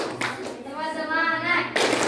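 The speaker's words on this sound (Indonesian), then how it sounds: "Gimana tepuk semangatnya kalian?" Classroom children doing the 'tepuk semangat' clapping chant: a sharp clap, a sustained chanted vocal phrase, then another burst of claps, close and fairly loud.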